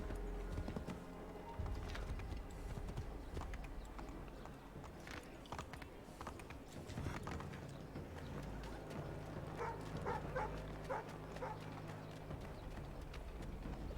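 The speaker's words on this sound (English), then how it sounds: "Getting a stolen horse." Steady hoof clip-clop of a horse at a trot in Assassin's Creed 3, continuous and fairly quiet, with faint background ambience and no talking.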